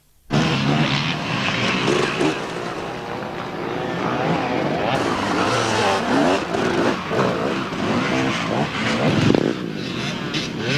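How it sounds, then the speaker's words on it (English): KTM 200 motorcycle racing at a hare and hounds off-road event, a loud continuous engine drone close by for the whole stretch with rising and falling revs and some rough, gritty texture. "Wayne riding a KTM 200."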